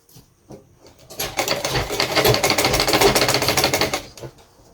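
A sewing machine stitches a corset seam in one quick, steady run of dense mechanical clatter that lasts about three seconds, then stops, with a little handling noise before and after.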